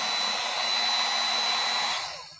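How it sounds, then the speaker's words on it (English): A heat gun set around 450 to 550 degrees warms a dent in aluminum bodywork, blowing a steady, loud airy roar with a faint high whine for about two seconds before tapering off. "So the heat gun, we're going to go to 450, 550 degrees."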